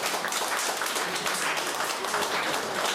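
Audience applause at a charity dinner, a dense steady burst of clapping filling the room for a few seconds.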